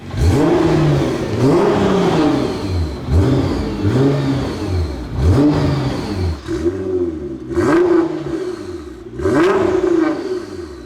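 A Litchfield-tuned 757 bhp Nissan R35 GT-R Nismo engine revs hard in repeated rising and falling bursts, loud and close, with no one talking.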